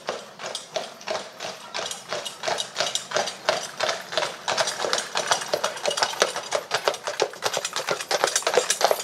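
Carriage horses trot in a steady, close clip-clop, with sharp, evenly spaced hoof strikes that carry on without a break and grow slightly louder toward the end.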